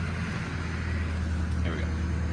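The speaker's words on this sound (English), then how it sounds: "let's go ahead and fire this thing up" A turbo diesel truck engine idles after a cold start with a deep, steady rumble up close, and someone talks over it.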